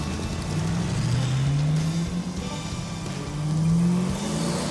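A 1966 Buick Special built for off-road use revs its engine. Rising pitch sweeps climb and fall twice over a steady rumble, heard fairly close with no talking.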